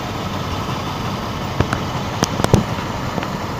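A vehicle engine idles steadily after a starter solenoid replacement, a constant close rumble broken by a few sharp clicks and knocks near the end.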